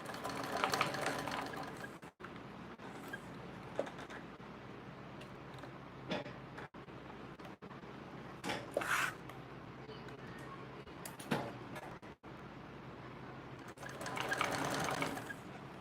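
Sewing machine stitching along a quarter-inch seam, a quiet close mechanical whirr in short bursts broken by brief pauses, with louder spells near the middle and end and no talk.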